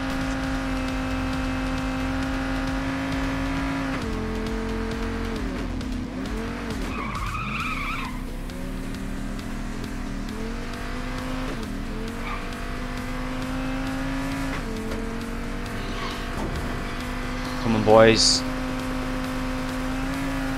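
A car in the PAYDAY 2 car shop heist drives steadily with a constant engine drone, briefly revving and skidding, while a voice talks over it and a sharp squeal cuts in near the end.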